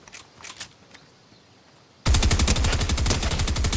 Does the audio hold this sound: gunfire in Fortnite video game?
yes